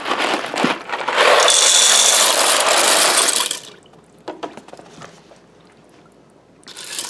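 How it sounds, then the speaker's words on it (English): Dry pasta tipped into a Ninja Foodi pressure cooker for baked ziti gives a steady, loud rattling rush for a few seconds, then trails off into a few scattered small clatters. "So I'm going to add in the pasta"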